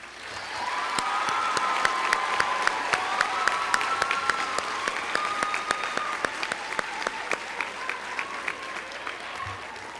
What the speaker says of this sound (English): asking them to be recognized with a round of applause